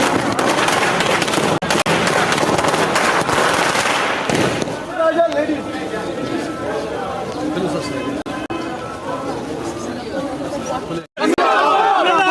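Firecrackers set off by Congress party workers and supporters at a victory celebration, a dense loud crackle for the first few seconds, then fading under excited crowd chatter and shouting.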